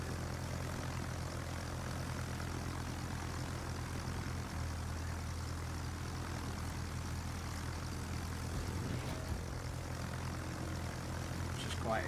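Carrier Independence launching aircraft with rocket-assisted takeoffs in World of Warships, a steady low propeller engine drone held at a distance under a constant background hum.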